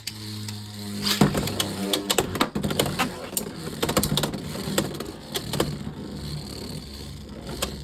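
Beyblade X tops clashing in a stadium, with a Rhino Horn top among them: a rapid series of sharp plastic clacks and grinding rattles over continuous spinning scrape, close and fairly loud.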